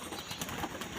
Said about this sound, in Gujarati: આપણા કબૂતર છે.